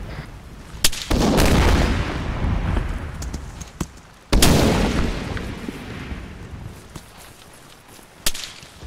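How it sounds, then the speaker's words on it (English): Fragmentation grenades detonate in the Arma 3 military simulation game, two loud booms a few seconds apart, each followed by a long rumbling decay, with sharp distant cracks of gunfire around them. "I can throw frag. Frag out."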